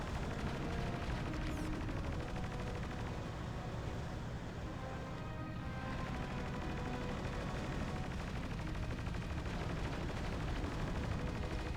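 In the Battalion Wars 2 video game, main guns fire at a bomber amid continuous dense gunfire and booming cannon bursts, a constant loud battle din with no voices.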